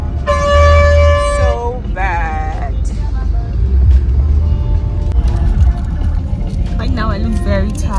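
Gridlocked traffic in Lagos, Nigeria, with several car horns honking in long sustained tones and short toots over a dense rumble of idling engines, while a person talks close by.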